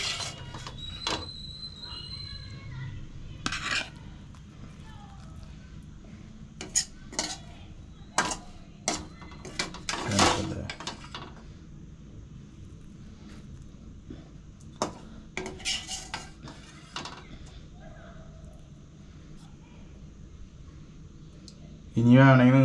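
Fried egg and butter garlic bread are moved into a serving bowl, with scattered clinks and scrapes of a utensil against dishware over a speaking voice, and a loud knock at the very end.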